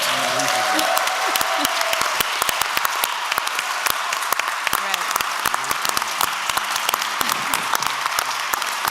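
Dense, sustained applause from an audience after the 2025 Alchemy Lecture, steady clapping close and full throughout, with a voice speaking briefly over it.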